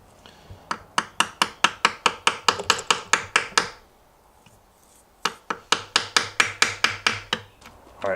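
A washer on a KZ1000 motorcycle fork being hammered flat: two runs of rapid, evenly spaced metallic blows, each about a dozen strikes, separated by a short pause.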